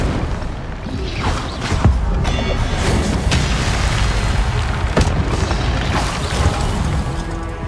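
An Incendio fire spell explodes in Hogwarts Legacy amid combat, loud booming blasts and crashes in a dense, continuous roar with several sharp bursts standing out.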